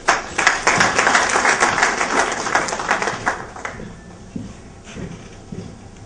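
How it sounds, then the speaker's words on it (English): Audience applause welcoming the president of ICAP at a bank awards ceremony, a dense burst of many hands clapping that peaks early and then thins out and fades over several seconds. "Please welcome with a big hand of applause"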